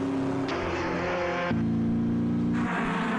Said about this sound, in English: The sound of a car completes the experience.